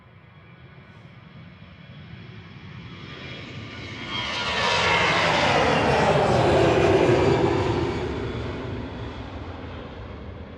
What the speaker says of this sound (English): Super noisy, those A320 Classics.